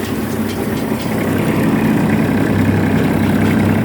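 A tractor engine runs steadily at about 1500 rpm with the PTO shaft turning at 540, driving a mini baler on a sunny day; a loud, continuous low rumble with a constant drone, no talking.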